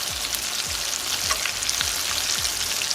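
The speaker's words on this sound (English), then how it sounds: "Let that first one get a first dip into the oil so that it starts frying on all sides" Steady crackling sizzle of bean and potato tacos deep-frying in hot oil, continuous and close, with no voices.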